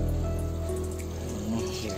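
Water flowing and trickling into the reservoir of an indoor hydroponic NFT system under LED lights, a steady close-up gurgle over a low pump hum, with no talk.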